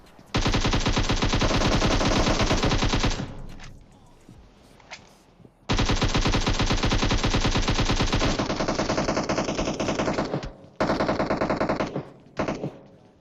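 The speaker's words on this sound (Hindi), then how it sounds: "मैं भैया लेफ्ट में गोली चलाए जा रहा हूं, पूरी गोली पेल दी वहां पे" PUBG Mobile game gunfire from a Groza rifle: long sustained automatic bursts, loud and close, broken by a short pause and a couple of clipped final volleys.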